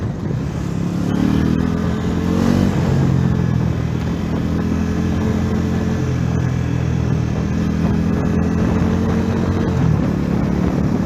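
A Bajaj Pulsar NS400Z motorcycle engine runs steadily at mid pitch in third gear, revving slightly with small rises and dips, close and loud throughout.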